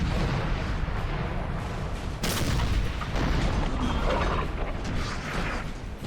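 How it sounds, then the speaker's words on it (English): Five-pounder cannon fire in Napoleon: Total War, a battle soundscape of dull artillery booms and crackling musketry with a sharp report near the middle, steady and moderately distant throughout. "Makes sense for the 5-pounder to continue shooting for a little while longer."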